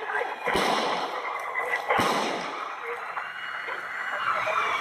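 Two sharp distant gunshots ring out over a noisy, crackling radio-like background, with a faint siren-like tone drifting through.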